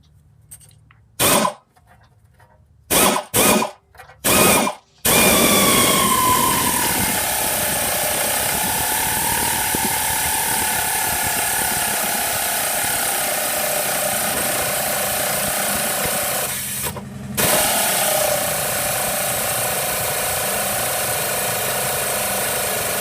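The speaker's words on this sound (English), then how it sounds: "Air ratchet much better than an impact gun." An air ratchet works on a BMW E36 rear trailing arm bushing, starting with several short loud bursts, then running as one long continuous mechanical whirr with a brief pause near the end, close up.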